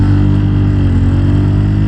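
A Bajaj Pulsar N160 motorcycle carrying a passenger revs hard as it pulls away uphill, its engine note a loud, steady, close drone with no talk over it.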